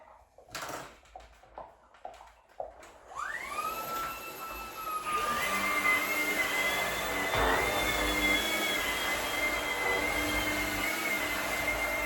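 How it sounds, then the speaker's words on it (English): A Shark Carpet Xpert vacuum cleaner starts up on carpet with a rising whine after some bumping, then runs steadily and loudly with a high tonal hum over a broad roar. "So we're going to vacuum it, and then we're going to clean it."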